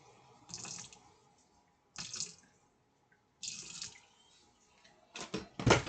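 Water from a tap poured in short bursts while mixing food at a community cooking event in Montreal, four splashy runs separated by pauses, ending in a louder rush.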